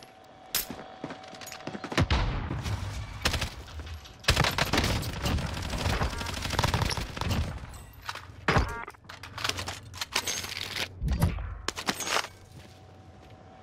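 Rapid bursts from a Bullfrog SMG in Call of Duty Warzone on Rebirth Island, loud and close, repeated volleys separated by short pauses, with thuds and footsteps between.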